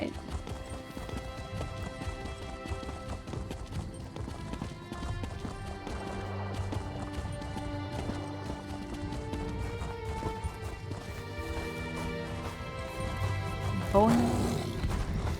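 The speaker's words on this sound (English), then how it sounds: "Perry the horse." Hooves of a horse mount in Elder Scrolls Online clip-clop in a fast, steady gallop throughout, set against game music and running under a player's talk, with a brief louder whinny near the end.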